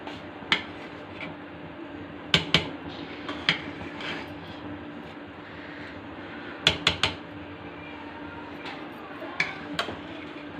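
A lid comes off a pot of dum-steamed rice with several sharp, light metallic clinks and taps, spaced irregularly over a low steady hum, quiet and close.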